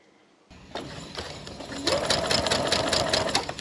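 Sewing machine stitching along the edge of an invisible zip, a quick steady mechanical whir of needle strokes starting after a short silence and running close and even, with a voice over it.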